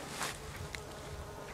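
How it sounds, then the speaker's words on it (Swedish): A tree full of buzzing insects, bees or flies, giving a continuous loud hum close by outdoors with no talking. "Jäklar vad det surrar det här trädet."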